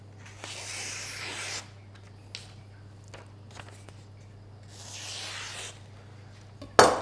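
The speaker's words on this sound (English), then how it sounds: "use a piece of paper. And it should just cut through" A sharpened kitchen knife slices through paper in two long, soft rasping strokes, with faint scratches and taps between them and a sharp knock at the end, close and quiet over a low steady hum.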